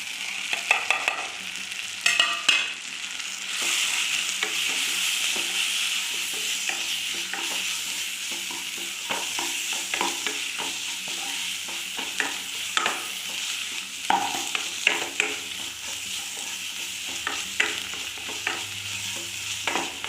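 Ground spice powders for chicken biryani frying and being stirred in a pan, with a steady close sizzle and repeated scraping stirs for twenty seconds, no talking.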